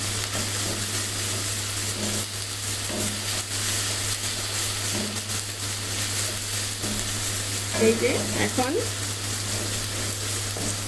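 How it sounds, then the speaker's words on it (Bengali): Ginger and garlic fry in oil in a pan with a steady, close sizzle that continues throughout, and a voice briefly speaks near the end. "আদা রসুনটা ভাজা হয়ে গিয়েছে"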